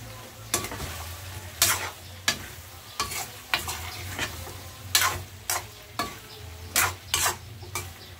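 Pork offal for Bicolano-style dinuguan being stirred in a pot, a steady low sizzle broken by about a dozen sharp scraping strokes of the spoon at an irregular pace, close and fairly loud, with no talking.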